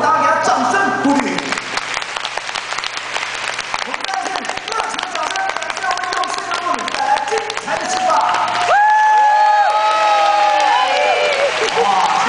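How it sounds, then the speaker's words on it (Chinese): A crowd at a wedding-themed show applauds the groom, sustained loud clapping and cheering that swells near the end, with a voice speaking over it at first. "大家给他掌声鼓励"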